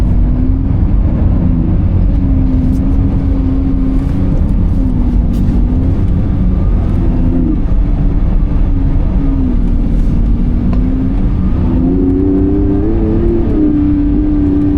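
A Lamborghini on studded winter tires runs at low revs around 3,000 RPM, a loud, close, continuous engine burble that holds steady and then climbs slightly in pitch as the throttle rises, with no talking.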